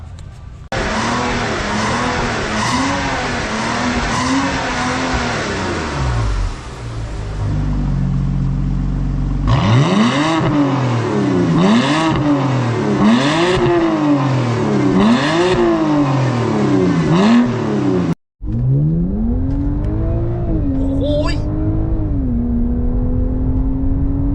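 A BMW F10 with an aftermarket adjustable exhaust revs hard over and over, loud and throaty, its pitch climbing and dropping in waves. The sound cuts out briefly near the end.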